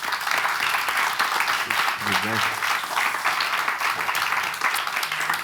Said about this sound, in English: Ladies and gentlemen, big applause for our speakers.